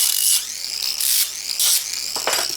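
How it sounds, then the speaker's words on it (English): Hand deburring of two flat iron pieces cut to 7-inch lengths for an ingot mold: repeated bright scraping strokes of a file on metal, four close, loud passes in a steady rhythm with brief pauses between them. "I'm going to just kind of deburr it a little bit."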